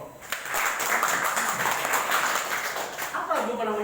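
Applause from a training-session audience, a dense steady patter of many hands clapping throughout with voices mixed in, and a voice rising toward the end.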